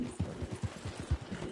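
A horse in Red Dead Redemption 2 walks slowly, giving soft, evenly spaced hoof clops close by, with no talk.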